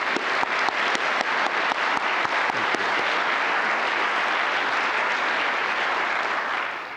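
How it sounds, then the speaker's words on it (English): A conference audience at VIS 2023 gives the awardees another round of applause, loud, sustained clapping from a large hall that starts with a few sharp individual claps and stays dense throughout. "if you'd help me give all the awardees another round of applause"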